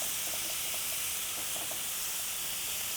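Salmon fillets in teriyaki marinade sizzle in a crowded frying pan, a steady hiss with crackling pops running throughout at moderate loudness.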